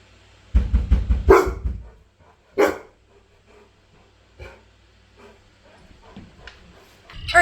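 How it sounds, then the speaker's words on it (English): A dog wearing an ultrasonic bark collar barks loudly and close in a quick burst of several barks, then gives a couple of softer isolated barks and small whimpering sounds with quiet gaps between them. "So all we have to do now is wait for him to bark, and I'll show you how he responds."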